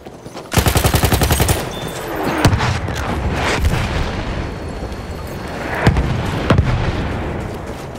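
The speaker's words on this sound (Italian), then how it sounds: "Attendi la fine dei colpi d'artiglieria nemici." Enemy artillery fire pounds the battlefield in the video game Battlefield 1, with a loud burst of rapid gunfire followed by heavy booms and sharp blasts, some near and some distant, against a continuous rumbling background.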